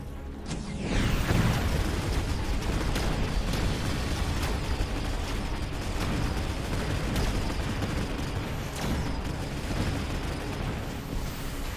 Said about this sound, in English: there come more missiles